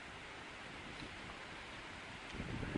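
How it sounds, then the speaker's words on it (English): Steady wind rushing past, broad and even, swelling a little louder toward the end, outdoors at Cliveden gardens. "It's a bit windy today."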